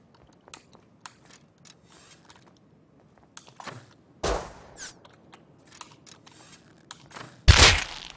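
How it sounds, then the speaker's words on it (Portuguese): Gunfire in the survival game Rust: two sharp, loud shots stand out about three seconds apart, preceded by faint scattered clicks and small impacts in an otherwise quiet scene. "Toma um tiro na cara."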